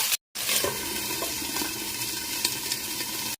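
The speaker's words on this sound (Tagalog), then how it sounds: "Lagyan ko lang ng konting tubig." Water poured into a pan of sweet potato leaves in olive oil and soy sauce sets off a loud, continuous sizzling hiss after a brief cut to silence.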